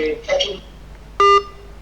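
Telephone keypad tones sound on a call-in line during a medical advice radio show. A few short tonal beeps come first, then one loud, clear dual-tone press stands out near the end, sharp and close.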